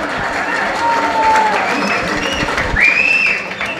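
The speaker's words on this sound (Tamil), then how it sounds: "கொஞ்சம் மெதுவாக கைத்தட்ட சொல்றாங்க." Audience applause fills a press conference hall, a steady dense wash of clapping from a crowd that continues throughout at even loudness.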